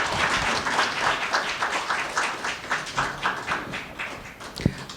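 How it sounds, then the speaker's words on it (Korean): An audience claps for an ambassador after a lecture at a Nobel Peace Prize 25th anniversary ceremony. The applause is a sustained patter of many hands at moderate loudness, fading a little near the end. "귀한 강연해 주신 대사님께 다시 한번 큰 박수 부탁드리겠습니다"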